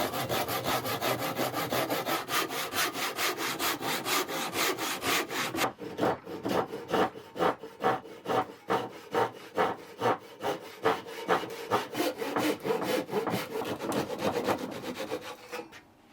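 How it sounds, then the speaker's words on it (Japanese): A hand saw roughly cuts away wood to form a tenon for a workbench, steady rhythmic back-and-forth strokes, continuous rasping at first, then clearer separated strokes, close and alone. "大まかにノコギリで除去しておきます"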